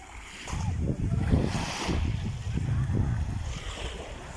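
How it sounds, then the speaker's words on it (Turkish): Sea waves wash and break steadily on the shore while gusty wind buffets the microphone. "Buranın en dalgalı hali bu kadar oluyor."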